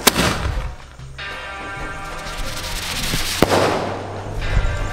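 Firecrackers set off at a family Karthigai Deepam festival celebration, sharp bangs and crackling bursts, including one loud close report, ringing over a continuous hiss and sizzle outdoors, with no speech.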